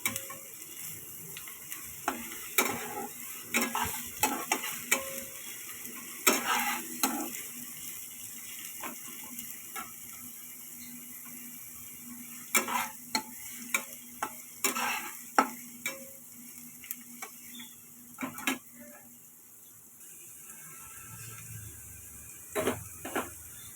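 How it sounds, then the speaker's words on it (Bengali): Onion paste and chopped onion frying in a pan, with repeated scraping stirs and clinks over a faint, low sizzle, with quieter stretches between bursts. "তার মধ্যে দিয়ে দেবেন একটা মিডিয়াম সাইজের পেঁয়াজ বাটা আর পেঁয়াজ কুচি। ভালোভাবে নাড়াচাড়া করতে থাকবেন।"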